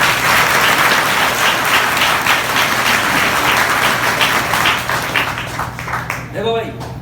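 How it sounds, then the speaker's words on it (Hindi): Students in a chemistry class applaud loudly, a dense, steady wash of clapping that thins slightly near the end as a voice begins speaking. "अरे ताली बजाओ"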